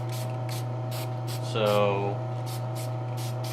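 Testors Dullcote aerosol is sprayed onto a painted piece masked with Silly Putty, giving a string of short, evenly spaced hissing bursts over a steady low hum, with one brief spoken word.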